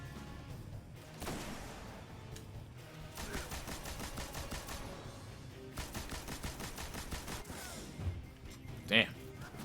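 Enemy weapons in Destiny fire in rapid, regular bursts of shots, with clattering volleys repeating at a moderate distance under a talking voice and ending with a sharp, brighter impact.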